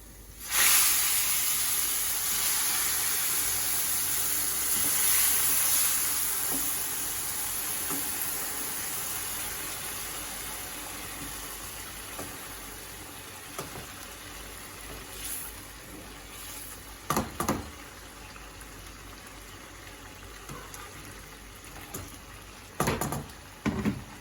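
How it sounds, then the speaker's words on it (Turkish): Toasted vermicelli hisses and sizzles loudly as water is poured into the hot pot, and the hiss slowly fades into a quieter simmer. A few sharp knocks and clatters come near the end. "Şimdi suyumu ekleyeceğim"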